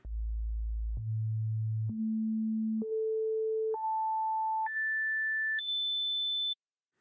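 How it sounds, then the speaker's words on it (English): A pure electronic sine-wave tone steps upward in pitch by octaves seven times, each steady note lasting about a second before jumping higher, then stops. "I'm going to use simple sine wave, whose pitch changes in octaves"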